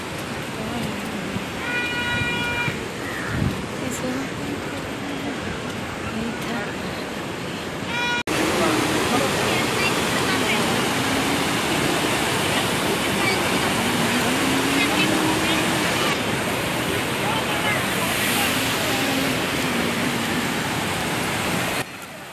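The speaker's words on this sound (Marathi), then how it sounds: "हा आहे प्रवारा फॉल. तुम्ही बघू शकता किती मोठा हा फॉल आहे आणि किती जास्त पाणी आहे" The large Pravara waterfall in the Bhandardara area pours a heavy volume of water with a continuous loud, roaring rush. The sound strengthens partway through, and faint voices mix in near the start.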